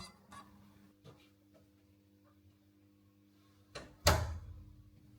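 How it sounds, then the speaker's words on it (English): A heavy door to the control room of an underground Cold War emergency bunker swings open near the end with a loud, abrupt thud and scrape, after a quiet stretch of faint background hum and small knocks. "And if we open the door,"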